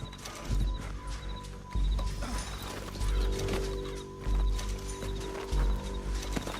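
A horse's hooves clip-clop at a steady galloping pace with an occasional whinny, over a low rumbling soundtrack in the video game Red Dead Redemption 2.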